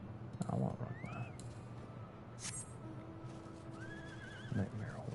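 A horse mount in Final Fantasy XIV whinnies with short rising cries over a steady game background, with a few soft clip-clopping hoof sounds near the start and end.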